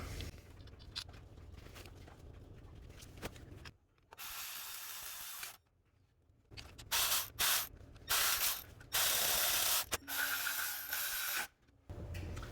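Ratchet work on the EGR bracket bolts of a Chevy Silverado 5.3L V8 during a knock sensor replacement, heard as bursts of clicking and scraping mechanical noise separated by brief quiet gaps, fairly close with no talk.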